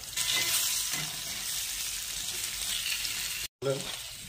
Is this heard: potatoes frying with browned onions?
yes